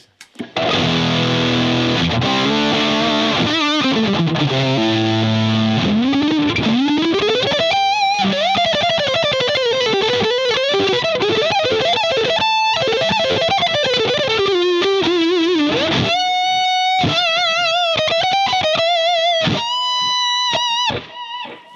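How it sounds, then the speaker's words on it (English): Distorted electric guitar played alone through an Analogman-modded DOD YJM 308 overdrive pedal, chords then bending lead notes, loud and sustained with a gritty overdriven tone. "So I have the DOD YJM 308 here"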